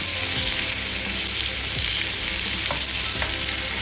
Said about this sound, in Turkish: döküm tavamıza koyuyoruz. Altı tamamen açık. Hiçbir şekilde kısmıyoruz ve mühürlenmesini bekliyoruz.